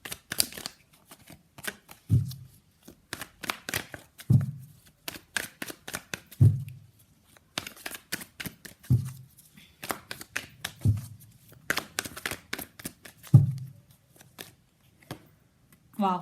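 Tarot cards being shuffled by hand in repeated riffling bursts, each ending with a soft tap about every two seconds, close and clear with no talk.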